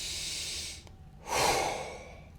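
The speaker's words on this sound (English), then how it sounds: "take a deep breath" One deep breath close to the microphone: a long airy exhale, a brief pause, then a fuller, louder inhale that slowly fades.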